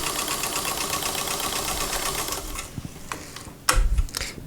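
Sewing machine stitching lace on a nightgown, a fast steady mechanical whirring that runs throughout, then slows into a few irregular clunks and taps toward the end.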